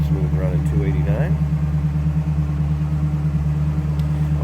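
A 1965 Ford Mustang convertible with a 289 V8 idles smoothly and steadily at close range, a low continuous rumble, with a few brief spoken words over it near the start.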